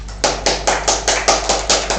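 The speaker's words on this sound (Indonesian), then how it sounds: "tepuk tangan untuk semuanya." A class breaks into applause in a microteaching lesson, heard as about nine sharp, evenly spaced claps that sound close and clear over a low steady hum.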